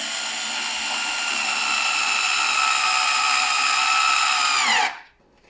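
A power screwdriver drives screws into a SNOO bassinet during an O-ring repair, giving a steady, loud whirring drone with a ratcheting edge that runs for about five seconds before stopping abruptly.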